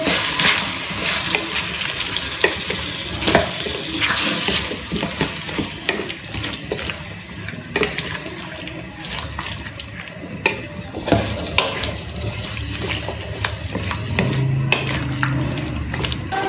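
Tomatoes cook down with half a cup of added water in a pan while being stirred, producing a continuous bubbling sizzle with repeated scraping and clinking of a spoon, no talking.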